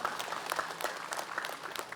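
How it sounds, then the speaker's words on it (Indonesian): An audience at an Islamic religious lecture applauds for their teacher: a dense, steady wash of many hands clapping at once, fairly quiet and continuous for the full two seconds, with no talking over it. "Tepuk tangan buat guru kita Habib Muhammad Syahab."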